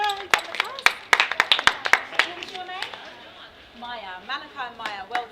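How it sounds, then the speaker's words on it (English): A round of clapping for two children at a science week event, sharp irregular claps ringing out near and loud over a voice, thinning out as talk continues. "So a round of applause for Malachi and his lovely sister who done the task"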